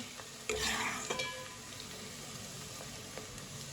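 Onions sizzle quietly in a pan, lightly browning, while a spoon scrapes and stirs a couple of times, the frying hiss continuing steadily underneath.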